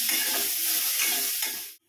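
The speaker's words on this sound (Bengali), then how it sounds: "আলুটা লাল করে ভেজে নিই" Potatoes frying in oil for a paneer dish, with spices ready, give a loud, steady sizzle and the scrape of stirring for nearly two seconds, then cut off abruptly.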